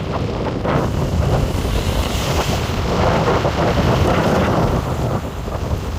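Wind and waves lash a sailboat at sea during a transatlantic crossing, a continuous loud rush of gusting wind and sloshing water with no talking.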